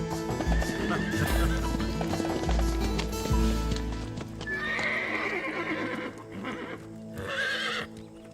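Horse hooves clop steadily on hard ground, then a horse neighs loudly twice, close by with a busy background.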